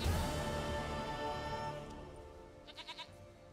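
A goat in The Witcher 3 game bleats in a few short wavering pulses near the end, faint and close, following a decaying musical tone with no speech.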